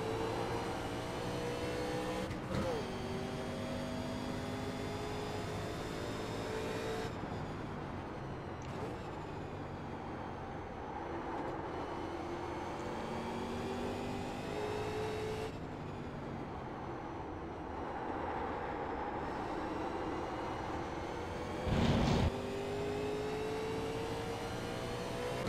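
A simulated NASCAR 87 race car at Watkins Glen in iRacing drones loudly and steadily throughout, its engine pitch climbing and dropping through repeated shifts, with a brief louder burst near the end.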